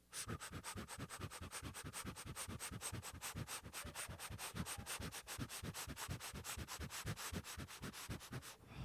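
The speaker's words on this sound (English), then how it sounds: "Purse your lips, and I want you guys to breathe like this." An audience at a health summit hyperventilates together through pursed lips, a fast, regular train of loud, airy breaths repeating about four to five times per second for the whole stretch, with no talk.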